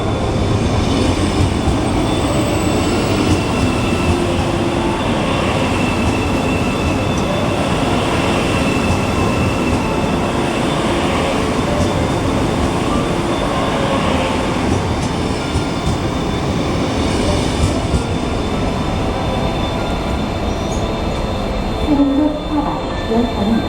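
A KTX high-speed train rumbles steadily into Jecheon Station, South Korea, a continuous heavy roar with faint squeals and rattling, loud and close throughout.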